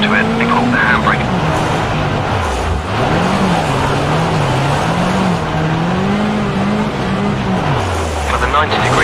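Rally car engine in Richard Burns Rally, racing toward a hairpin with the handbrake pulled, revving high and steady, its pitch rising and falling through gear changes as a voice talks over it.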